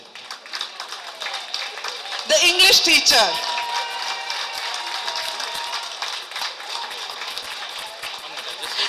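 An audience applauds a teacher at a school alumni meet, a brief burst of clapping rising after a spoken introduction, with talk continuing over a steady room murmur.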